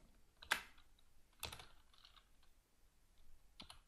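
A few quiet, separate keystrokes on a computer keyboard, spaced unevenly with pauses between them, close and soft in a quiet room.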